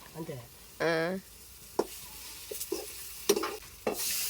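Brinjal (eggplant) frying in a pan and being stirred, with scattered scraping clicks and a soft sizzle, a short voice briefly heard early on, and a brighter hiss swelling at the end.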